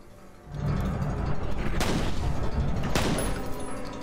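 Sustained gunfire in the F.E.A.R. shooter game, a dense loud barrage of rapid shots starting abruptly and continuing with heavy booming bursts, no talking.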